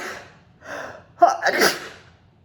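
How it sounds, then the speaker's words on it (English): One person draws two quick gasping breaths, then lets out a single loud, sharp sneeze that trails off into a breathy exhale, close and alone. "I'm gonna sneeze now."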